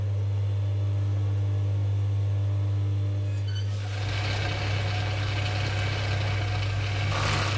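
A sewing machine stitches a bodysuit sleeve, its motor giving a steady, close hum that grows louder and rougher about halfway through and runs without pause, with no talking.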